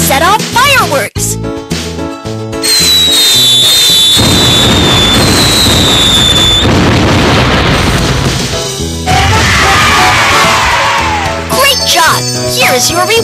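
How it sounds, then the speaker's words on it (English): Cartoon fireworks in the Baby Panda's Ship game, loud booms and crackling bursts with whistling rising tones and sparkly chimes, several blasts in sequence filling the whole stretch with bright music-like effects. "Let's set off fireworks!"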